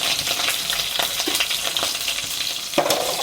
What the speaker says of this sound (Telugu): కరేపాకు ఇప్పుడు పల్లీలు వేస్తున్నా